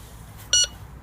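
A Maplin N87KA metal detector gives a single short, clear beep over a buried target in a field, alone against quiet outdoor background.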